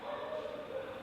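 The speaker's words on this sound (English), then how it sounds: "Sorry about my dog. If you can hear him, he's just loud." A dog lets out a brief whimpering yelp, faint and a little distant, in one continuous whine.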